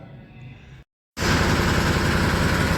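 A tractor engine runs close by: a quieter rumble cuts out briefly, then a loud, steady, broadband chugging drone carries on without a break.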